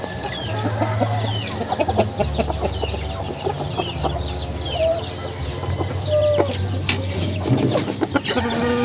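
A sick, weak chicken in its cage gives off low clucks and faint bird calls amid a busy farmyard hum, with other fowl chirping nearby.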